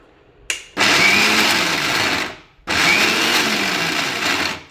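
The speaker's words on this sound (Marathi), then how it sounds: "आता हे मी मिक्सरला बारीक करून घेते।" A mixer grinder whirs loudly while blending garlic, ginger and rock salt into a paste, running in two close bursts of about one and a half seconds each, with a brief pause between them and a click at the start.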